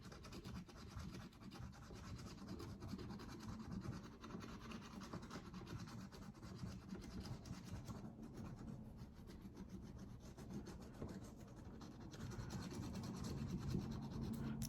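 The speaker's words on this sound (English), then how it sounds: "Can y'all hear me scratch?" A coin scratches steadily across a scratch-off card, a close, dry rubbing that runs continuously at a soft level with no talk.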